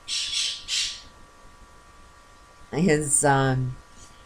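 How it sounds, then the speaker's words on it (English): A pet bird lets out two loud, harsh squawks close by. A person's voice follows briefly afterward. "my bird is going nuts"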